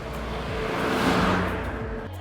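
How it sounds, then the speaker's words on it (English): A three-cylinder engine in a 2021 Kia Picanto GT revs and swells, rising to a throaty peak then easing off, a short burst of gritty mechanical roar close by. "the obnoxious sounding 3-pot engine makes it sound like you're going much quicker than you really are"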